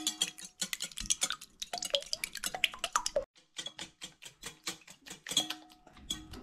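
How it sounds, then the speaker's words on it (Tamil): Four eggs are whisked in a bowl with quick, rhythmic clicking strokes that run continuously, pause briefly, then resume at the same brisk pace. The sound is close and fairly quiet. "இப்போ இந்த முட்டையை நல்லா அடிச்சிட்டோம் பாருங்கள்."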